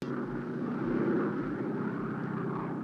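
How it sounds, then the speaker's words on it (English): A cartoon airplane, the Mystery Flying Machine from a Scooby-Doo episode, drones steadily in flight with an even, continuous engine hum and no voices. "aboard the Mystery Flying Machine, which is an airplane"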